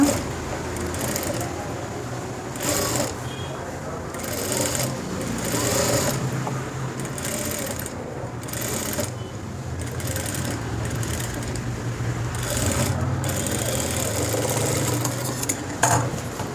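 A sewing machine stitches a school uniform coat in a steady, continuous run that lasts throughout, with brief pauses and clatter of handling between bursts of stitching.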